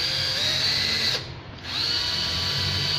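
A used Japanese cordless battery drill whines loudly at close range, briefly slowing and dipping in pitch before spinning back up to a steady high whir, with no talking.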